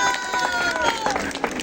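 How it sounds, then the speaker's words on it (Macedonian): Applause and cheering from a crowd at an outdoor award ceremony for the best ethno table at a Macedonian village festival, steady dense clapping with brief shouts over about two seconds. "Ве молиме да на аплауз."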